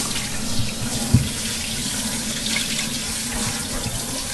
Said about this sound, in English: I like to stick the sprayer up in here and get the tank all rinsed out real good